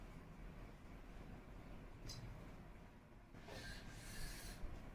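Writing being rubbed out on a classroom board during a maths lesson, faint scratchy rubbing strokes at low level, with a brief swipe and then a longer, louder stretch of rasping near the end.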